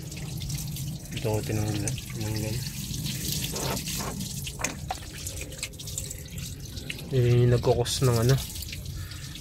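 Liquid drains from a clogged car radiator while coolant is emptied, splashing and trickling water in short bursts, with a person talking over it nearby.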